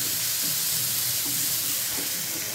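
Ingredients for an egg and mealmaker masala curry fry and roast in a pan over a low flame, giving a steady, close, unbroken sizzling hiss.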